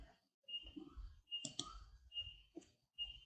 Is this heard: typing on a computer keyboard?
yes